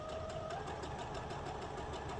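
Sewing machine stitching quilt pieces corner to corner in chain piecing, a steady continuous mechanical whir running throughout without pause, moderately faint.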